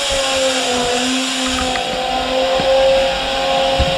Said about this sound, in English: I think that's fuel pump.